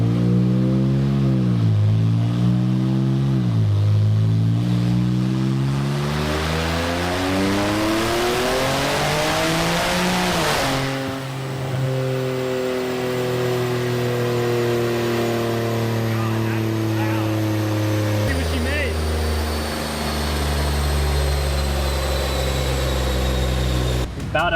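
An Infiniti Q50 with a VR30 engine, port injection and a VRX80B turbo setup revs hard on a dyno pull in a hot garage, a loud, close engine note rising steadily in pitch, then dropping back and settling to a lower drone.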